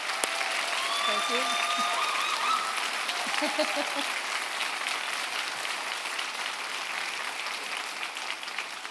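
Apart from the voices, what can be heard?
applause for graduates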